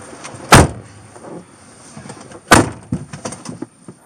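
A police car door slams shut loudly twice, about two seconds apart, followed by softer thuds and rattles from officers loading a detained man into the vehicle, with no talk.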